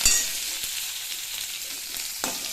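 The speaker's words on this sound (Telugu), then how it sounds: "ఉల్లిపాయలు కొంచెం వేగే వరకు" Chopped onions sizzle steadily in hot oil in a pan for a quick snack, a continuous close frying hiss with a few soft clicks of stirring, no voices.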